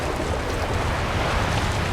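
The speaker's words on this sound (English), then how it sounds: "The waves are smashing our boats on top of us and on top of the rocks." Loud, dense roar of ocean waves crashing over boats and onto rocks, a continuous churning wash of water close by with no voices.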